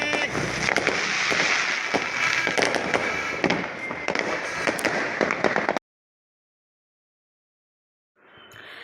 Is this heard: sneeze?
no